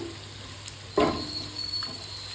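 Paneer fried rice being mixed in a pan with the fried paneer just added: a soft, steady sizzle with a louder scraping stir around the middle, no voices.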